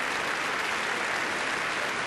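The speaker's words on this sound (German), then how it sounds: "Ja, klatscht man hier gerne." Audience applause at a Dieter Nuhr comedy show in Wuppertal, a steady dense wash of clapping that holds at an even level for two seconds with no voices over it.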